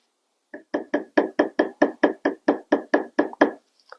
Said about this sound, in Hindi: लोहे से प्रहार करने के बावजूद भी ये अंडे टूट नहीं रहे हैं।